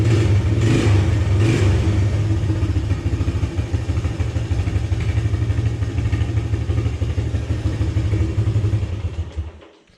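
A small Suzuki motorcycle engine, freshly repaired carburetor, runs steadily after being pull-started, a close, loud idle with light mechanical clatter and a brief rev before cutting out near the end.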